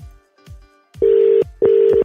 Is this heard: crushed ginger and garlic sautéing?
no